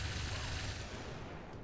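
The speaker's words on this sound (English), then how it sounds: "are going to be hit by a shredstone cannon" A shredstorm cannon in XCOM 2: Long War of the Chosen lets loose a dense, roaring barrage of gunfire, a loud and steady blast that carries through the whole moment without any talk.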